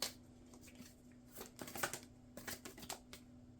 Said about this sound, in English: Let's go ahead and pull our 3 cards here.